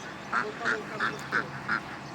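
A series of loud, evenly spaced duck quacks, about six calls in a row, over faint outdoor background noise.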